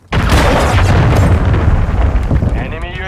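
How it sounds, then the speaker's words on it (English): A cruise missile blast in Call of Duty Modern Warfare III hits hard and close right after a brief quiet start, then a dense rumbling roar lingers and slowly thins over a few seconds. "Hostiles launched the cruise missile."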